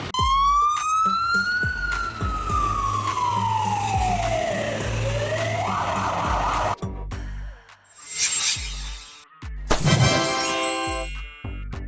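A fire and rescue bus, a converted bus used for evacuations and carrying rescue equipment, sounds a loud wailing siren that rises and falls, followed by horn blasts and other vehicle sounds toward the end.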